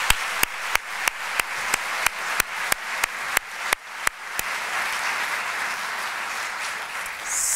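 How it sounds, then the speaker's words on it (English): Applause from an audience at an evening event honoring a committee and sponsors, sharp rhythmic claps ringing out over a steady wash of clapping that continues throughout. "let's give the committee and all of the sponsors a big round of applause"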